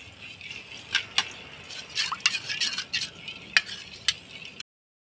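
A batter of wheat flour and jaggery for gulgule is stirred in a bowl, giving a steady wet scraping and sloshing with occasional spoon clinks against the side, up close, then it cuts off to silence.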